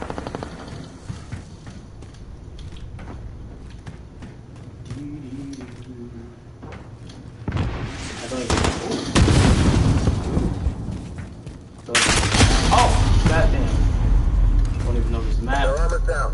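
Gunfire in a PS4 team deathmatch shooter, loud rapid bursts of shots and booms that kick in around 7.5 seconds and again near 12 seconds, over game noise and someone talking.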